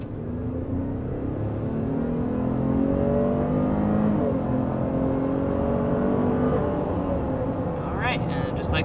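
A 2022 Chevy Traverse accelerates hard up to 60 mph, its engine note climbing steadily in pitch under road and wind noise heard from inside the cabin, with a voice talking over it.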